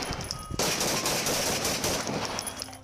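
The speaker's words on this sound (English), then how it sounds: "Police officers in North Ogden, Utah, opening fire on a man shooting at them from a house." Police body-camera gunfire from a gun battle with a man firing from a house in North Ogden, Utah: a loud, sustained burst of rapid overlapping shots that fills the whole stretch, with no pauses between them.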